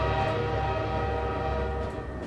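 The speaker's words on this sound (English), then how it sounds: "Is that the same train?" A train rumbles past in the video game Half-Life 2, a dense, steady metallic roar with sustained tonal whine, loud and close before easing slightly at the end, with no voices.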